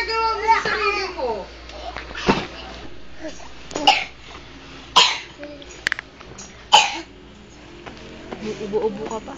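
A child coughs several times in separate bursts, close by, with a voice and chatter in between.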